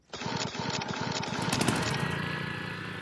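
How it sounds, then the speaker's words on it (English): A lawn mower engine catches after a cord pull: quick rhythmic sputters build into a steady, loud mechanical rattle that keeps running to the end. "to start the mower, you grab this pull cord like so and give it a nice hard yank"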